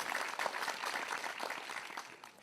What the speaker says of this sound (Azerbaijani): Mikailzadəni alqışlayırıq.